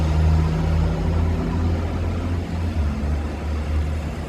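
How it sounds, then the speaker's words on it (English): Number 18 bus driving up Kirkcaldy High Street, a loud continuous low engine rumble with street noise that stays steady close by, no voices. "Number 18 bus heading up towards the bus station."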